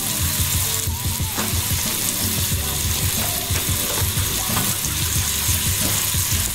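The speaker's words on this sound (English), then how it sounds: "Then let us melt 2 tablespoons of butter." Butter melting in a hot pan gives a loud, dense, continuous sizzle and crackle close up, steady throughout with no voices.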